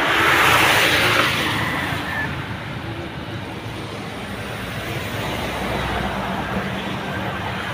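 A car drives along a road past a resort, its tire and engine roar loudest at first and then settling into a steady, fainter rumble as it moves on.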